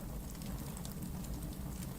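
Steady rain falls as a dense, even hiss with faint patter, unbroken and moderately quiet throughout.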